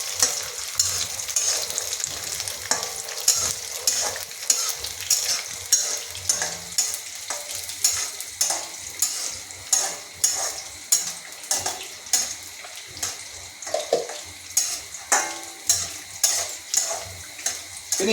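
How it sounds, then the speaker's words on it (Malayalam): Kanda poha ingredients sautéing on a low flame in a pan, soft sizzling under repeated scraping and stirring strokes that settle into a steady rhythmic pattern, close up with no talking. "അപ്പോൾ ഫ്ലെയിം ലോ ആക്കി നമുക്കതിനെ ജസ്റ്റ് ഒന്ന് വഴറ്റിയെടുക്കാം"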